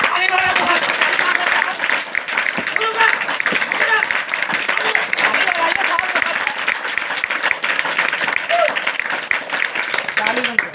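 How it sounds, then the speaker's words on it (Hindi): An audience claps steadily through a street magic show, a dense, even patter lasting throughout, with a voice talking over it. "ताली बजाओ"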